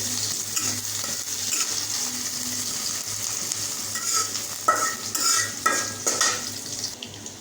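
Onions sizzle in hot oil in a pan while a spoon stirs them, with scraping and clinks against the metal, close and continuous, the stirring growing busier toward the end.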